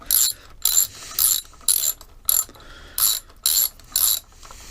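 A ratchet wrench spins a 10 mm socket on a Yamaha outboard carburetor, giving nine crisp bursts of close, loud clicking with brief pauses between strokes and no talk.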